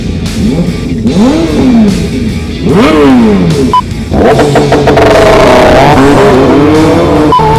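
Sport motorcycles including a Honda CBR1000 rev hard one after another at a Sunday morning ride, loud rising and falling engine whines sweeping past close by, with overlapping exhaust roar.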